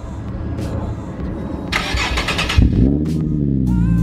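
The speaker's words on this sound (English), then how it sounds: "Here's the exhaust without the actual muffler hooked" A Nissan 370Z with its muffler removed runs as a straight-pipe exhaust: a steady, loud, low engine drone throughout, with a rising rev swell in the last second and a half.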